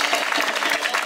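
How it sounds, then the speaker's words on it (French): A crowd at a Christian gathering in Paris-Châtelet claps in a brief, dense burst of applause that stays steady and fairly loud throughout. "On va accueillir sous vos acclamations le pasteur Chris"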